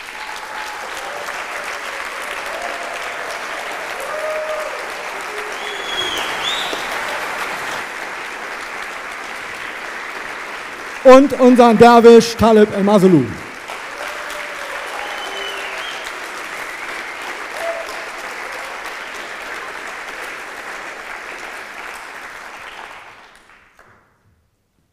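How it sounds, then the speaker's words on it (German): Concert audience at an international piano festival gives sustained, steady applause that fades out at the end, while a man announces a performer over a loudspeaker partway through. "Und für dieses letzte Stück begrüßen Sie bitte noch einmal mit einem tobenden Applaus unseren Nähflötisten"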